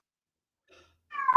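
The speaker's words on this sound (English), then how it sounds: "That's the cat now." A domestic cat gives a single short meow at the very end, close and fairly loud, after a near-silent stretch with only a faint noise.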